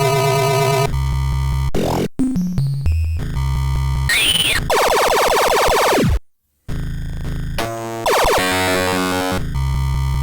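Williams-style arcade video game sound effects run in MAME, a loud, continuous jumble of electronic buzzes, sweeping tones, warbles and rapid bleeps changing every second or so, with one short silent gap.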